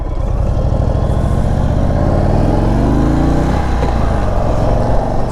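An Indian motorcycle with forward controls rumbles steadily close by, its engine rising in pitch as it pulls away and shifts up, a continuous loud throaty drone throughout.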